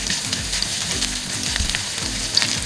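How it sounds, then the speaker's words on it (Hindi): Ginger-garlic paste fries in oil in a kadai over a medium flame, making a dense, close sizzle with crackling pops and soft stirring scrapes throughout. "देखिए अदरक लहसुन को मीडियम फ्लेम पे मैंने हल्का सा फ्राई कर लिया है।"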